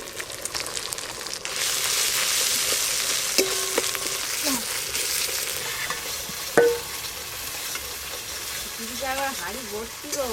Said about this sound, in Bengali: আদা আর জিরে একটু ভালো করে ভাজা ভাজা হয়ে গেছে